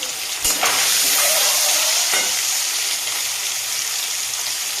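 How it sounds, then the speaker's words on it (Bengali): Eggs fry in a hot pan, a bright, constant sizzle with a sharp hiss surge near the start and a second burst partway through, loud and close, with no speech. "ততক্ষণে এই ডিমটা ভাজা হোক।"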